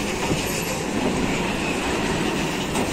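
A long, empty freight train rolls past on freshly repaired track where loose rails are being tightened and ballast reset, giving a steady, loud rumble of wagons with faint wheel clatter throughout.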